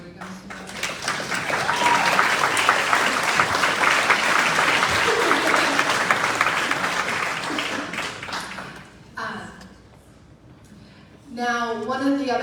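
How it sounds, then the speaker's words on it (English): Sustained, loud audience applause fills a room at a health care awards ceremony for about nine seconds, then fades, with a voice speaking briefly over the tail and again afterward. "we would like to give you a round of applause"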